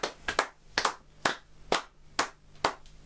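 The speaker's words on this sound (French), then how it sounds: "j'ai envie de le dire, j'applaudis des deux mains." A single person claps by hand at a steady, unhurried rhythm, about six or seven sharp, close claps each separated by a short silence.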